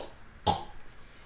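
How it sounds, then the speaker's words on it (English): A single short, sharp cough rings out once, brief and moderately loud against a quiet background. "he caught a nasty cough"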